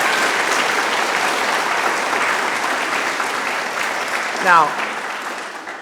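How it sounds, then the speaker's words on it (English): Audience applause for student string quartets at a school orchestra winter concert, a dense steady clapping wash that slowly thins out, with a voice speaking briefly near the end. "Guys, give them another round of applause."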